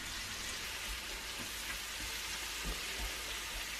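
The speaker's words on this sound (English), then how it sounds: "I like to saute them a little bit beforehand" Ingredients sauté in a pan for a Salisbury steak, a soft, even sizzle heard at low level throughout with faint occasional pops.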